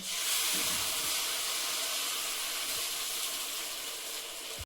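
Chopped onion and ground spice paste hit hot oil in a pan for a chicken curry, giving a loud, continuous close sizzle and hiss that holds steady before cutting off abruptly.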